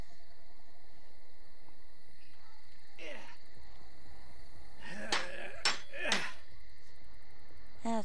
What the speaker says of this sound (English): Hammer away.